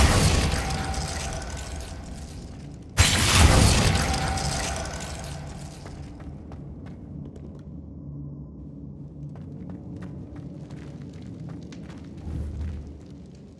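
Confringo explosion spell in a Harry Potter game, a single sudden loud boom that rolls off into a long rumbling decay with scattered debris crackles and faint clicks afterward.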